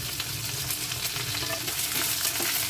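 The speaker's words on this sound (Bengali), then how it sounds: "তেলের মধ্যে ভাজতে হবে। রসুন, আদা ভালো করে পেঁয়াজের সঙ্গে ভেজে নিই।" Chopped onions frying in hot oil with cumin seeds, dried red chillies and bay leaves for a Bengali cabbage dish, a steady close sizzle with scattered crackles and occasional stirring scrapes, no talking.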